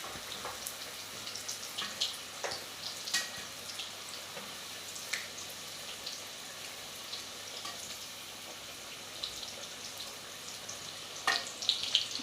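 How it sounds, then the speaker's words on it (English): Meat samosas frying in a pan of oil, a soft continuous sizzle with scattered crackles and pops, some louder spits near the end, no talking. "my samosas are still cooking"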